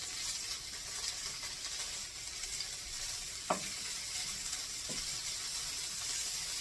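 California blend vegetables and chicken sizzle with a steady frying hiss in a hot pan, broken by a couple of sharp utensil scrapes as they are stirred, close and alone without talk.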